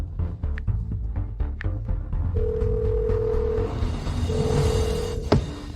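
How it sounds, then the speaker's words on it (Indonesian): A telephone being dialed: a run of short key beeps, then long steady tones that break and resume, over a low background hum, ending with a sharp click. "Aku akan telepon dia sekarang."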